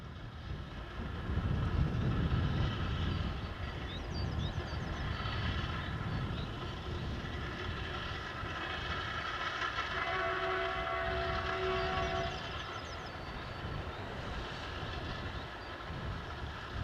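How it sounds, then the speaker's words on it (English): A railway track maintenance machine moving into position for ballast tamping beside a high-speed line in Poland: a steady, loud diesel and rolling rumble with rail screeches and tonal whines drifting across the scene. "This track machine moves into position,"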